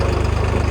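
A New Holland 3630 4x4 tractor engine runs steadily at close range, a low, throbbing diesel idle with an even pulsing rhythm and no talk over it.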